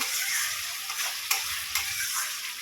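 Onions and spices for paper chicken fry in a hot pan with a steady close sizzle, and the spoon stirs with a few soft scraping taps.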